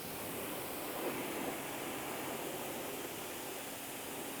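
Steady broadband water spray rinsing iron remover off a car during detailing, a continuous hissing wash that holds at an even level throughout without pauses or voices.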